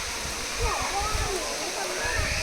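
Ermai Falls at Belthangadi, a waterfall running low in summer, gives a steady broadband rush of falling water with splashy texture, while people talk faintly in the background.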